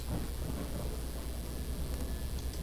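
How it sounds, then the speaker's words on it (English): Heavy rain roars steadily with a deep rumble of thunder underneath, a dense, continuous storm wash with no voices, from a horror video game. "It's raining now."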